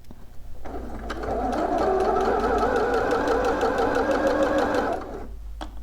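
A home sewing machine runs steadily for several seconds, stitching a dart on McCall's 7908 shorts or pants, with a whirring drone and rapid needle clatter. The run starts after a brief pause and stops near the end, with no talk.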